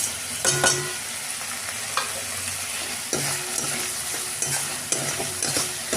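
A ground paste of coriander, ginger, cumin and green chili fries with salt, turmeric, Kashmiri chili powder and a little sugar. It makes a steady sizzle broken by regular scraping stirs of a spatula against the pan.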